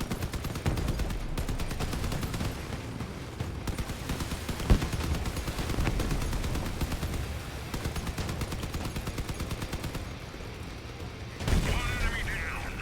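Machine gun fire in the vehicle combat game Crossout, a dense, continuous rattle of rapid shots that runs for most of the stretch with brief pauses, beneath a low mechanical rumble.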